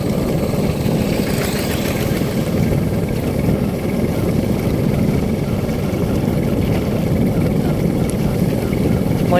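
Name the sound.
Thai rural farm vehicle (rot e-hang) engine running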